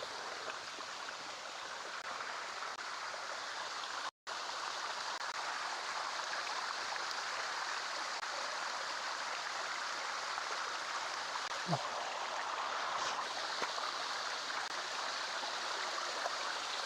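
Water from a hidden waterfall rushing steadily without pause, a dense continuous roar close by with no voices and only a brief dropout partway through.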